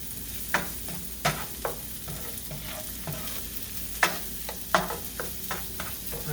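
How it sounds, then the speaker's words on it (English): Chorizo and rice seasoned with salt and pepper are stirred in a frying pan, soft frying hiss beneath a series of distinct utensil scrapes and taps at uneven intervals, close and fairly quiet. "And give that a stir."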